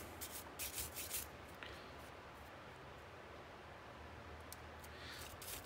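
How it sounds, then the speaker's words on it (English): A soft brush loaded with CLP scrubs the top of a Kimber 1911 pistol frame, making a faint, steady close rubbing with a few brief scratchy strokes near the start. "I've still got a little bit of CLP left on my soft brush, so I'm going to use that to kind of scrub down on the top surface of it"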